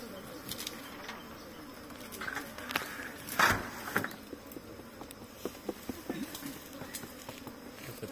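Bees buzzing around an opened honey beehive during a hive inspection, a soft continuous hum with faint scattered ticks and a brief louder burst midway; low voices murmur faintly.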